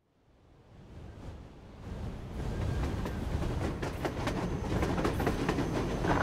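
A handcar rolling along rails in the Metro Exodus video game, a rumble that swells from silence into a steady, loud clatter with rhythmic clickety-clack of wheels over track joints, with no voices.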